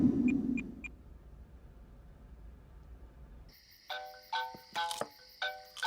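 A phone rings in a scene from a Tamil thriller film, sounding as a repeating electronic ringtone in short bright bursts that begin partway through after a quieter, rumbling stretch, fairly close and clear with no talking.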